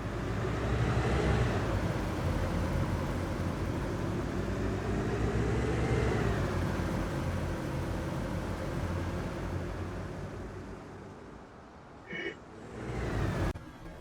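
Several supply trucks, single and double axle including an FMTV, drag racing in a video game, a steady loud engine and road drone that fades slightly toward the end.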